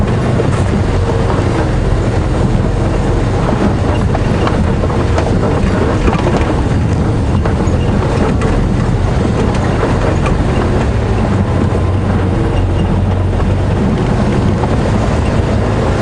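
A safari vehicle drives a bumpy dirt track at Djuma Game Reserve, giving a steady, loud engine and road rumble with rattling jolts and wind buffeting throughout.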